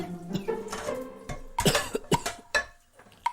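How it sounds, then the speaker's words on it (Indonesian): A man coughs repeatedly in a series of sharp, close bursts with brief pauses between, in an indoor scene about a father's cough that has lasted over two months. "Ayah masih batuk."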